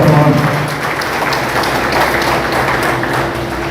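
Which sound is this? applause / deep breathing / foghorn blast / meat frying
applause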